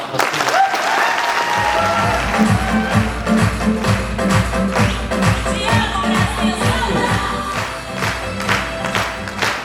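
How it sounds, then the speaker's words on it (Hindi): Loud, sustained applause from an audience at a motivational training seminar, honouring the stage anchor, with steady rhythmic beats and music running beneath the clapping throughout. "एक बार इनके लिए भी जोरदार तालियां"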